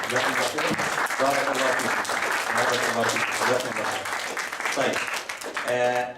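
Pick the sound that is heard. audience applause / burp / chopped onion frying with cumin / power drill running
audience applause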